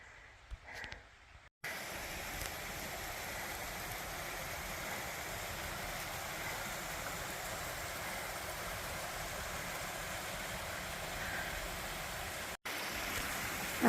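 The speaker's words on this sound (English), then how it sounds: "That's a water source that I am going to cross." A small stream water source crossing a hiking trail on the Appalachian section from Flint Mountain to Sam's Gap, rushing steadily and evenly at close range with no voices.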